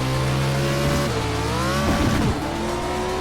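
Race car engine in iRacing on a dirt road course, revving loud and close, then dropping pitch abruptly on an overly aggressive downshift with a brief scrabble of tires before the drone settles again.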